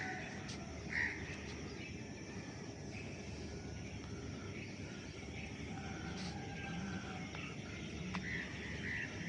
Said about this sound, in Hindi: और आप परिंदों की आवाज़ें सुनिए।